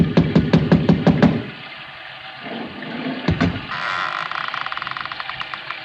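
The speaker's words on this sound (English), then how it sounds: "I lifted the bronze idol and rapped on the door with it" Radio drama effect of a bronze idol rapped against a door: a rapid series of about seven sharp, loud knocks, then quieter room sounds and a single later thump.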